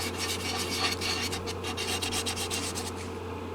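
A muslin cloth loaded with pumice abrasive rubs over the finish of a carbon fiber guitar, a rapid rhythmic rasping scrub repeated steadily over a constant low background hum, close and moderately loud.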